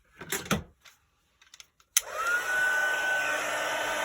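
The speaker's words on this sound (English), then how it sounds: "Now we're going to heat emboss this." Electric heat tool for heat embossing a card switches on with a click and settles into a steady, close whirring blow with a rising tonal whine, after a few quieter handling taps.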